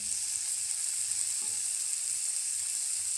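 Chopped tomato hitting a hot oiled pan while cooking a vegetable paratha filling, a steady bright sizzle with a soft faint thump partway through, close and continuous with no talking.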